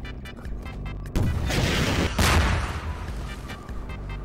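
Gunfire in Garry's Mod during a beach shootout erupts suddenly and loudly, a dense blast of shots and booming impacts that swells again midway and then fades to scattered noise.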